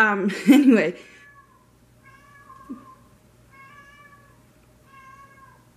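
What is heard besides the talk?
cat meowing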